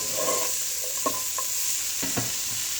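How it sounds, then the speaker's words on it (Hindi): Chopped capsicum being stirred in a hot pan for vegetable lasagna filling, a steady loud sizzle punctuated by several scraping strokes of a spoon against the pan, close up with no voices. "अब इसको मिक्स करेंगे अच्छे से"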